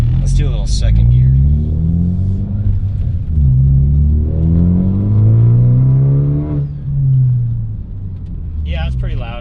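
Ford Focus ST with an aftermarket catback exhaust pulling hard in second gear, a loud, close droning roar rising in pitch twice with a brief dip between pulls, and a short voice remark at the very start.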